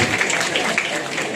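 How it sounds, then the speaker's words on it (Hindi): Loud, steady clapping from an audience at an award ceremony honouring students, a dense wash of hands sustained throughout without a break. "जोरदार तालियां बच्चों के लिए"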